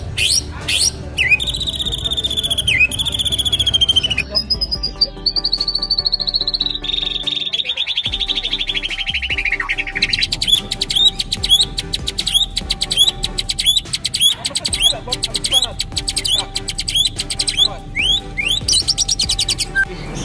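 A white-rumped shama sings loud, varied whistles, rising sweeps and rapid chattering trills, close by and nearly continuous, with other small chirps mixed in.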